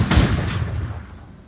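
A single booming gunfire volley in Guild Wars 2 after a command to fire, loud and close, with a sharp onset that rolls into a decaying echo over about a second.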